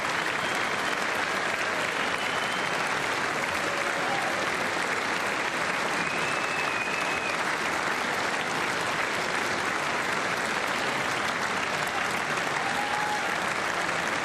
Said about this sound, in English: A lot of clapping tonight.